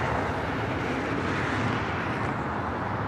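A Boeing 767-300ER airliner bound for Honolulu at LAX, producing a loud, steady, broadband engine roar that holds without a break throughout.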